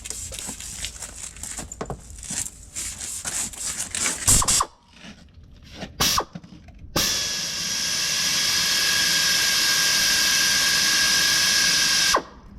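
A small rotary wet sander with a 3-inch soft pad works 1000-grit across a Porsche 911 headlight, starting after a few clicks and short bursts and then running as a steady close whine for several seconds before stopping.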